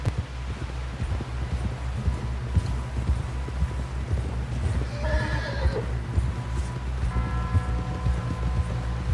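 In a video game, hooves pound in a steady rapid gallop while a horse lets out a shrill whinny midway, with a second shorter neigh later; no speech.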